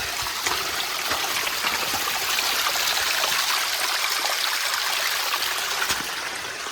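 Water runs steadily at Rasalgad hill fort in Khed during heavy rain, a close, continuous rushing trickle like a small stream that holds an even level throughout with no voices.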